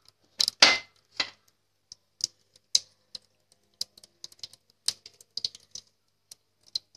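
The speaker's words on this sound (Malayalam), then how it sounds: "ഇതിലേക്ക് നമുക്ക് കടുക് ഇട്ട് കൊടുക്കുക." Mustard seeds crackle and pop in hot oil in a kadai while tempering for a drumstick-leaf thoran, heard as scattered sharp ticks and small bursts, a few louder pops early and then sparse irregular snaps.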